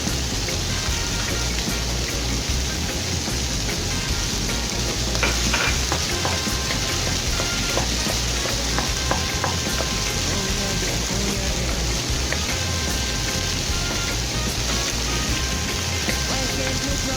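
Onions and shallots fry in a pan with a dense, continuous sizzle and crackle, broken by scattered clicks and scrapes of stirring, close and steady throughout.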